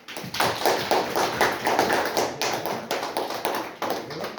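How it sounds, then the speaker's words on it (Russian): Classroom applause from a third-grade class at a school in Aznakayevo, celebrating a diploma award, with steady rapid clapping from many hands filling the room for several seconds. "Давайте похлопаем"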